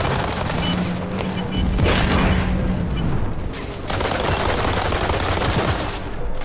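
Gunfire and explosions from a rocket launcher in the World War 3 video game, a dense, continuous barrage of shots and booms filling the whole stretch at steady loudness.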